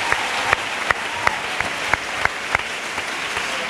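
An audience at a religious testimony gathering applauds Jesus Christ, a steady wash of clapping with a loose, rhythmic pulse of louder claps running throughout.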